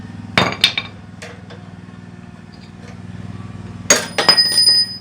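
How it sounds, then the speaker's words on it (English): A few sharp metallic strikes of a hammer on a punch ring out near the start, then a quick cluster of louder clanging hits on an old Montgomery Ward snowblower, over a steady low engine-like hum. "Try to hammer in a punch here."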